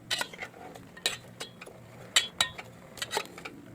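A utensil scrapes and knocks against a cooking pot while cauliflower and beans are stirred, close and irregular clinks and scrapes with short pauses between strokes.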